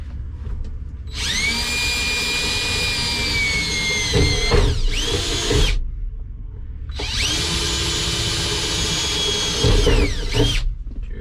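A power drill whirs loudly in two sustained runs, its motor pitch dipping under load, with short pauses and a ratcheting click between bursts.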